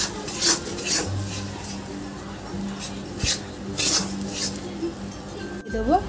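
Mashed pointed gourd being stirred in a pan over medium heat, with a spoon scraping and clinking against the metal in repeated strokes, moderately close, no talk.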